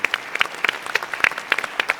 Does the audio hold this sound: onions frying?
no